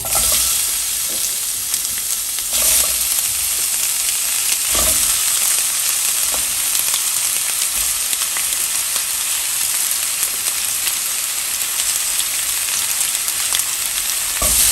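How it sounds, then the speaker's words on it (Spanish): Onion frying in oil in a pan, a steady loud bright sizzle and hiss running throughout with a few faint stirring knocks, no voices. "Voy a dejar que se acitrone un poquito la cebolla."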